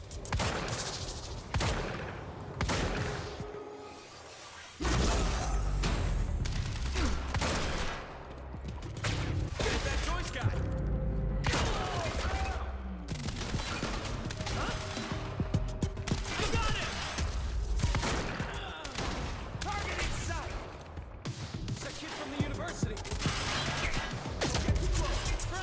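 Gunfire and time-blast explosions in the video game Quantum Break come as dense, loud bursts of rapid shots and heavy blasts, with short pauses between volleys and some voices mixed in.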